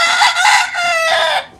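A young rooster crows loudly and close by, a strained, drawn-out call in several pulses that fades out at the end, with no voices present.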